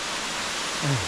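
Waterfall in Istria, Croatia, near Buzet, a steady broadband rush of falling water held at an even level throughout, with a brief low tonal swell near the end.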